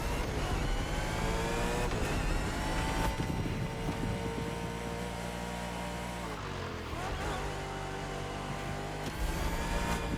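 A car's engine drones steadily at speed in The Crew Motorfest racing game, its pitch shifting as it brakes and accelerates, continuous and close throughout.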